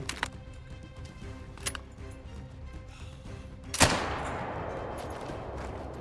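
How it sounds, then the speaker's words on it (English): A .22 Magnum rifle goes off once while hunting a kangaroo in theHunter: Call of the Wild, a single sharp crack over quiet outdoor ambience, followed by a lingering wash of noise. "Oh yeah, we're going to shoot him right now."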